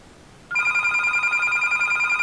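A telephone rings indoors with a steady, loud electronic ringing tone that starts suddenly about half a second in and repeats in quick pulses until the end.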